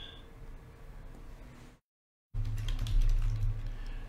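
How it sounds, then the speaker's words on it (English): Keys tapped on a computer keyboard in a steady run of soft clicks, a brief silent gap, then louder, quicker typing, close by with no talk. "So let me type these in."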